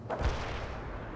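A single heavy boom from gunfire and artillery in the video game World in Conflict, loud and close with a short rumbling decay.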